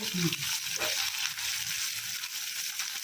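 Tomato, garlic and green chili frying in hot oil over a low flame, a steady close sizzle with faint scraping and clinks running under it.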